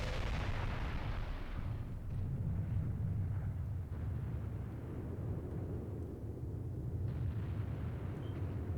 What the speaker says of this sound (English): Oh wow, that was a big explosion.